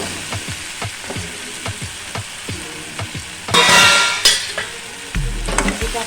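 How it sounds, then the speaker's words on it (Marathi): Brinjal sautéing in a home kitchen pan for a vegetable dish: a steady close sizzle with repeated scraping strokes of a spatula, a louder hissing burst midway, and a heavier clunk of the pan near the end, with no talking. "वांगी टाकली की चांगली धुवून परतून चांगलं परतून घ्यायचं।"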